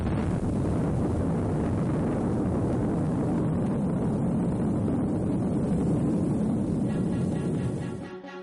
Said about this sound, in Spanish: 5 segundos para la explosión